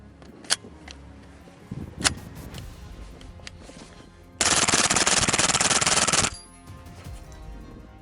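A suppressed firearm fitted with a Seg H pistol can and a Rex QD fires, two single muffled shots first, then a loud sustained rapid burst lasting about two seconds before it stops.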